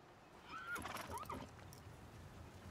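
A horse gives a single clear whinny inside a stable, moderately close and fairly quiet, over low background noise.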